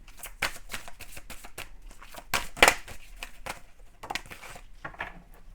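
Tarot cards being shuffled and a card drawn, a rapid series of crisp papery riffles and flicks with one louder snap near the middle, close and alone without speech.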